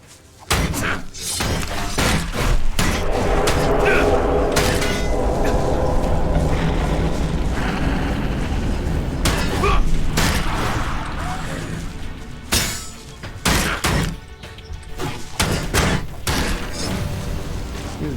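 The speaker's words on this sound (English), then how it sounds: "Throwing grenades." Grenades bursting in combat in the action role-playing game ELEX II: a series of heavy booming explosions with sharp thuds, loud and close, mixed with battle noise and brief voice sounds.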